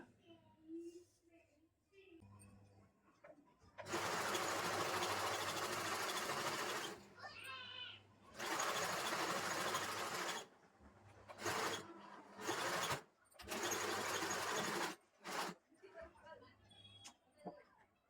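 Sewing machine stitching in several loud bursts of a few seconds each, separated by short pauses, with faint background sounds between runs.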